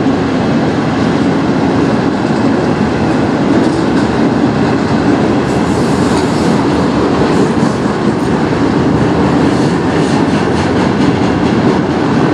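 A CN manifest freight train led by two locomotives rolls past on its way to the St. Clair Tunnel, a loud, continuous rumble of wheels and cars with faint clickety-clack throughout, close and unbroken.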